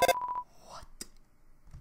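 A short burst of electronic beeping from a phone ringing in the video game Undertale, a few clipped synthetic tones followed by soft clicks and quiet gaps, heard alone.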